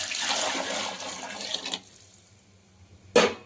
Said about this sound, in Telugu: ఇందులో మనము ఈ వాటర్ ఇలా పోసుకుందాం